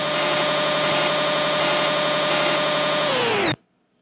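A CNC lathe threading the inside of a bore, a steady loud machine whine with a high tonal line running for about three and a half seconds, then dipping in pitch as it winds down and cutting off sharply into silence.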